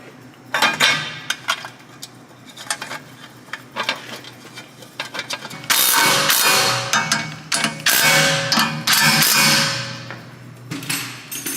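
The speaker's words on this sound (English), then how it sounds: "Finish it with a small ratchet." Small ratchet tightening the three back plate bolts on a Volvo front wheel hub, heard as a run of close metallic clicks and clinks, denser and louder in the second half.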